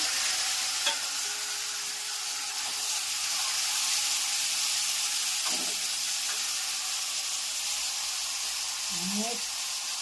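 A steady, loud hiss of a fenugreek curry tempering sizzling in hot oil, with curry leaves and tomato, and occasional faint clinks of a utensil against the pan.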